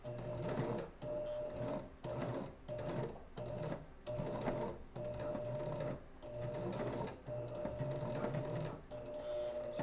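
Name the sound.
sewing machine stitching Spider-Man glove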